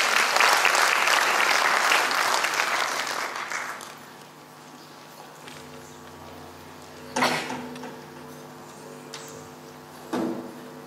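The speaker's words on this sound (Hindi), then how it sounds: "स्वागत कीजिए IGCIC के कलाकारों का जोरदार तालियों के साथ" An audience greets Kathak dance performers with loud, sustained applause that fades out after about four seconds, followed by quiet room noise and a couple of faint knocks.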